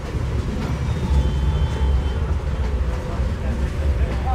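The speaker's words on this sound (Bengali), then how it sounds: "রাত 10টা বেজে 4 মিনিটে আমাদের ট্রেন প্রবেশ করছে তার আজকের যাত্রার প্রথম যাত্রা বিরতি স্টেশন আব্দুলপুর জাংশনে" The Banglabandha Express rolls into Abdulpur Junction at night, a steady low rumble of the carriage with faint squeals and rattles, while a voice talks over it.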